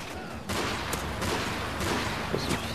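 Turret gunfire in a shooter video game bursts into a dense, sustained roar of rapid shots after a brief quieter moment, staying loud and close with a few sharper cracks near the end.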